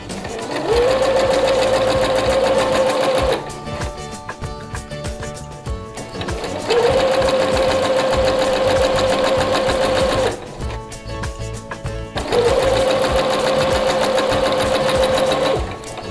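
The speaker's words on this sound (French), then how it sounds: "baissez le pied et continuez à coudre." A sewing machine stitches a visible zipper onto fabric in three loud, steady runs of rapid whirring, each broken by a short pause.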